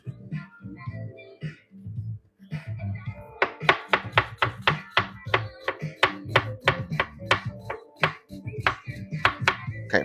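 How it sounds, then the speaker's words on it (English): A knife dicing food for black refried beans on a board: a few slow cuts, then a fast, even run of crisp chops, close and clear, with brief murmuring at the start. "Let me get this diced real quick"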